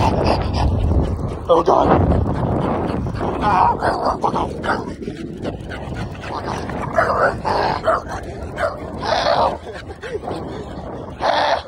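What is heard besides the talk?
angry dog barking at an e-scooter rider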